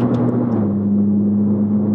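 A Ferrari 458 Speciale's engine holds a steady, loud hum that drops slightly in pitch after a moment, then sustains evenly for the rest of the stretch, with no voices over it.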